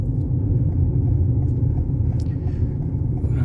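A car drives around a country town, heard from inside as a steady low engine and road rumble with faint intermittent ticks and no speech.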